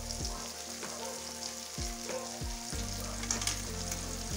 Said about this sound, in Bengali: দিয়ে ভালো করে কষিয়ে নিই। তেলটা ছেড়ে দিচ্ছে।